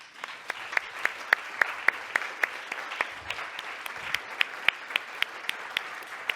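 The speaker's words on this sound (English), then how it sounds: "Please come up, get your round of applause that you well deserved." Scattered audience applause at a psychotherapy talk, a small group clapping in a steady rhythm of sharp, distinct claps over a quiet room.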